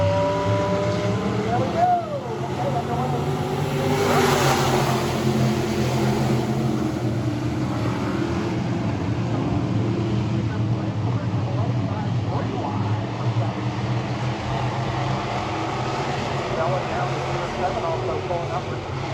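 E-Mod race cars roar side by side at Lakeside Speedway, a dense, continuous engine drone with shifting pitch as they pass, loud and sustained while a commentator talks over it.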